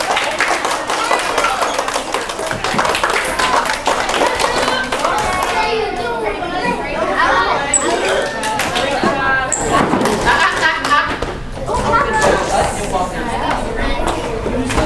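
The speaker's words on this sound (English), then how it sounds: "give our volunteers an applause" Scattered clapping from a crowd rattles on steadily, mixed with children's chatter and voices throughout.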